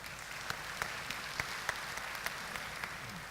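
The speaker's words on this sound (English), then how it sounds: "So shall we give him a big round of applause?" Applause from a conference audience at a human resource management event, a soft steady wash of many hands with a few distinct louder claps standing out, heard from some distance in a large room.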